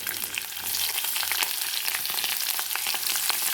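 Green chilies and cumin seeds fry in hot oil in a pan on a gas stove, a close, continuous bright sizzle with crackling pops.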